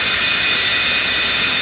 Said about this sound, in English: It's like an airplane jet.